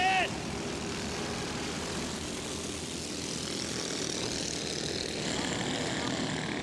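A pack of race cars roaring off at the start of a race at Grand Bend Speedway: a loud, continuous engine drone that swells slightly as the field accelerates, with faint voices underneath.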